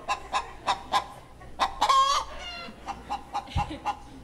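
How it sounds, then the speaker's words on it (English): Hens clucking in a rapid series of short, close, loud bursts with one longer squawking call midway, a busy farmyard chorus without speech. "So I didn't realize that hens were this loud."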